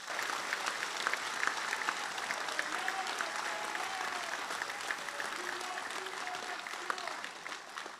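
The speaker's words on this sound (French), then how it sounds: "je peux demander la salle pour donner un grand applaudissement à nos bons vieillards" Sustained applause from a conference audience honoring elderly veterans, steady and fairly distant clapping filling the hall for about eight seconds without letup.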